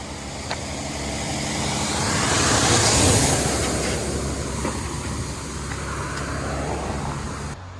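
A vehicle on a narrow road near a hiking trail approaches and passes close by as a broad rising and fading roar, peaking midway, then a steady lower engine drone continues afterward.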